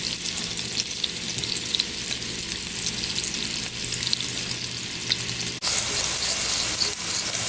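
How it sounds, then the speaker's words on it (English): Bell peppers with salt sizzle and fry steadily in a hot pan, a loud, continuous crackling hiss that runs throughout with brief stirring scrapes and no voices. "now that our peppers are sizzled for 2 minutes"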